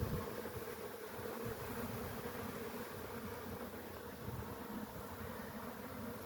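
Honeybees, some carrying pollen on their legs, swarm around an open hive, their layered buzzing forming a steady, even drone that fills the whole stretch without pause.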